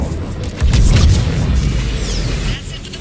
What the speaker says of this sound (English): Firing another salvo.